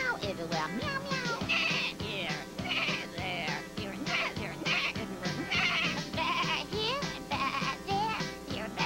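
A puppet character sings and speaks in a playful meowing voice in a children's farm song, imitating a cat with repeated stretched meows over steady backing music.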